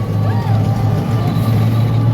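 Heavy road traffic idles and rumbles close by in a jam on a flooded, damaged road, a deep engine drone with a faint brake hiss and distant voices underneath.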